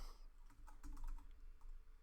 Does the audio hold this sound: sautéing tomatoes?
no